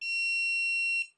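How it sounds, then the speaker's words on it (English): A single sustained electronic notification beep from an AnkerMake M5C 3D printer, a clean high tone lasting about a second before cutting off, with a faint brief noise after it. "So the printer plays a little notification sound when it either completes something,"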